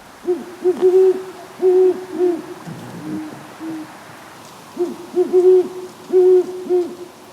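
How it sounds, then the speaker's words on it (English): Owls hooting down by a river, a series of soft, rhythmic low hoots in short clusters with pauses between, fairly close and clear against a quiet background. "Owls congregating down by the river just a few weeks ago."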